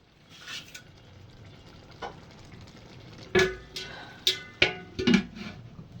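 Biryani gravy stirred in a pot, scattered scraping and clanking strokes of the spoon over a low simmering sizzle, a few sharper knocks toward the end.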